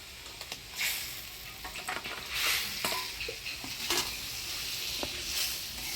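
Fried fish head and boiled kalai lentil dal tipped into a hot pot in a Bengali village kitchen, giving a steady sizzle and frying hiss with stirring scrapes and a few soft clinks, close and continuous, no talking.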